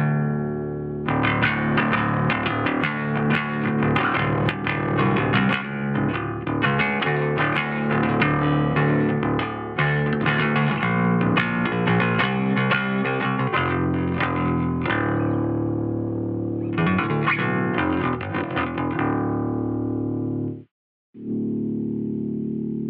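Electric bass fitted with a 24 volt mod, played through the bridge pickup, chugs through a main riff with a dense, driven, distorted tone, continuous and loud, pausing briefly near the end before one last note.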